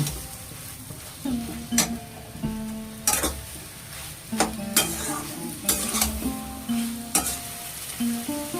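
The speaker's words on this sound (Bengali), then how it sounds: "এর মধ্যে পটলটা দিয়ে দেবো আমি দিয়ে এটাকে এবার একটুখানি আমি নাড়ব" Pointed gourd frying in a pan for a poppy-seed and coconut dish, stirred with a series of loud, close scraping strokes over a constant sizzle, with a few metallic knocks between strokes.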